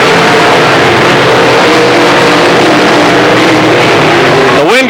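Late model race cars roar past at speed on a speedway, a loud, dense continuous engine drone that swells with a rising pass near the end, with a commentator talking over it.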